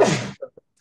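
A single sharp sneeze bursts out close up, followed by a couple of faint short sounds and then silence.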